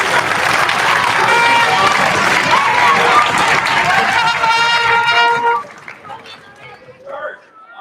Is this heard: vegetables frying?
no